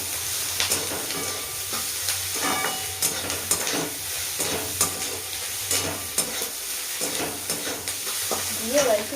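Food frying in a pan, a steady dense sizzle with scraping stir strokes throughout and occasional louder clicks and clatters, close and continuous with no talk.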